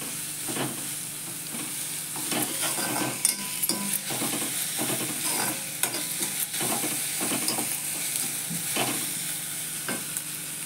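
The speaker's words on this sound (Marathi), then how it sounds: "परतून घेते चांगलं" A restaurant-style starter is stirred and sautéed in an iron kadhai, with a continuous sizzle and scraping spatula strokes against the metal, close and steady without talk.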